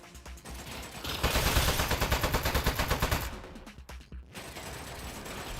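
Rapid automatic turret gunfire in the video game Aperture Desk Job, a loud sustained burst of evenly spaced shots lasting about two seconds, followed by scattered mechanical clatter and thumps.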